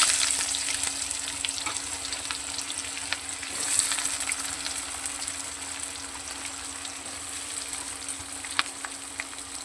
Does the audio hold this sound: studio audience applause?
no